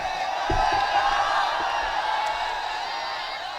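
An audience at an All India Mushaira poetry gathering shouts and cheers as a dense, continuous crowd roar that holds fairly loud and then slowly eases.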